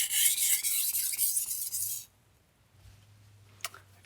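A Japanese knife is scraped across a whetstone in quick rasping strokes for about two seconds, then the grinding stops and only faint low room hum remains, broken by one brief click near the end.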